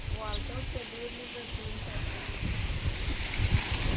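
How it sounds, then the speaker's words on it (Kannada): Strong wind rumbles and buffets against the microphone throughout, with a voice speaking briefly at the start. "ಗಾಳಿ ಸಿಕ್ಕಾಪಟ್ಟೆ ಗಾಳಿ ಐತೆ"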